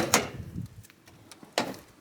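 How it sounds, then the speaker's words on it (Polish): Boot lid of a Fiat Siena car being opened, a soft latch click followed by a louder thump about a second and a half later, close and alone. "Otworzymy jeszcze bagażnik."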